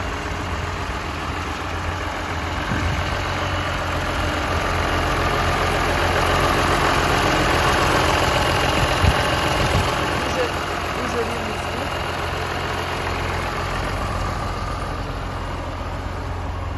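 A John Deere 6600 tractor's 140-horsepower turbocharged six-cylinder diesel engine idles steadily throughout, a low continuous rumble with a faint hum, moderately close and unchanging.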